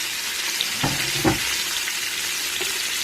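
Chopped peppers and onions fry in bacon grease inside an Instant Pot, giving a steady close sizzle with a couple of soft stirring knocks.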